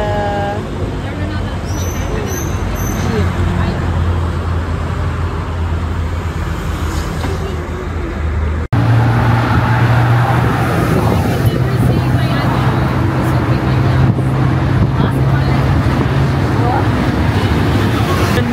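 Riding in an open jeep through Bangkok traffic, with a steady engine drone and road rumble throughout, wind buffeting the microphone and a busy mix of surrounding vehicles, while people talk nearby.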